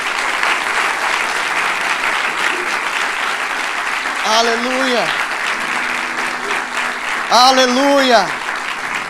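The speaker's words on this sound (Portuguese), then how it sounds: "dê uma salva de palmas a Ele" Church congregation at Zion Church Lisboa applauding steadily throughout, a dense wash of clapping with voices calling out over it twice in loud sung-like shouts.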